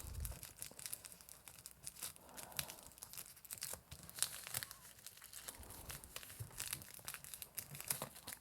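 Deli paper is folded and crinkled by hand at close range, a quiet, irregular stream of crackles and sharp crinkling bursts with no talking.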